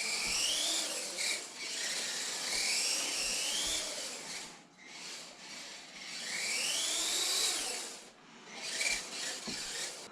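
Outdoors on damp ground, a Traxxas TRX4M RC truck fitted with a big block motor and high speed gears runs at full throttle, its whining motor rising and falling in several runs with brief lulls between them.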